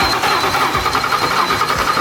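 An old Ford Mustang GT that sat rotting in a field cranks over on its starter, a short, close, steady churning with no catch.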